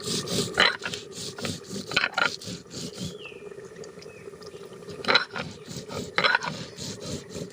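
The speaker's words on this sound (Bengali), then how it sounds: "জিরে আর সর্ষেটা আমি একসঙ্গে করে বেটে নেব" Cumin and mustard seeds are ground together on a stone, giving a rough, repeated rasping scrape in uneven strokes, close up and fairly quiet.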